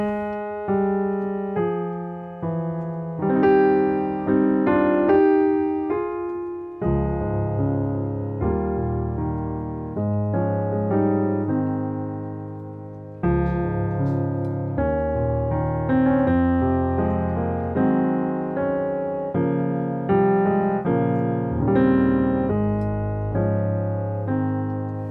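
The next eight measures of the melody play on a sustained keyboard instrument with a chordal accompaniment, a slow, legato phrase with a clear break midway, heard alone without talk.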